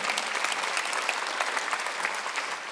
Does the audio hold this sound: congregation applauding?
yes